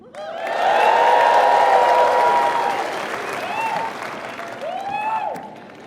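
A university commencement crowd applauds loudly and steadily, with whoops and cheers rising over the clapping before it gradually thins out.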